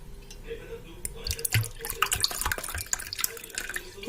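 Iced water pours and trickles into a bowl for homemade ice cream, a close, soft splashing and dripping with clinks, and someone speaks alongside it.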